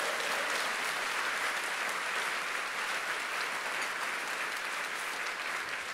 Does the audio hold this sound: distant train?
no